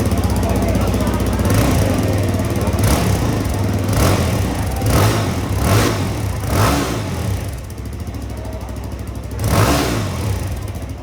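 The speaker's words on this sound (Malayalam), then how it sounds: "അപ്പോൾ സിംഗിൾ എക്സോസ്റ്റ് ആണ് വന്നിരിക്കുന്നത്. ഇതിപ്പോൾ DB കില്ലർ റിമൂവ് ചെയ്തിരിക്കുകയാണ്." A 2026 Yezdi Scrambler motorcycle with a single exhaust and its dB killer removed, engine loud and close, rising in repeated throttle revs over a steady idle rumble, with someone talking over it.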